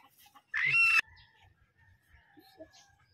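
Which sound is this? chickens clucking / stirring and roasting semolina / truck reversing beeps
chickens clucking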